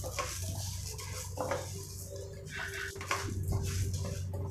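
Urad dal roasting in a pan for Tamil-style garlic podi, stirred with a metal spoon, giving soft scraping and clinking over a quiet kitchen background.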